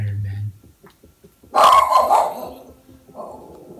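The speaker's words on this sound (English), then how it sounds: "Why must you bark?" A dog barks in a Minecraft world: a short low bark near the start, then a louder, sharper burst of barking and growling about midway that tails off, with faint game sounds between.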